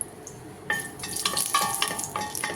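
Cardamom pods drop into hot boiling oil and sizzle steadily, with a sudden crackling burst followed by a continuous frying hiss and occasional light clinks of a pan.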